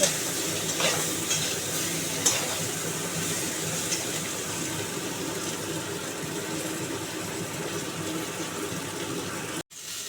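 Potato, pumpkin and eggplant pieces fry in a pan for cauliflower chorchori, a steady close sizzle with occasional stirring scrapes, briefly cutting out near the end.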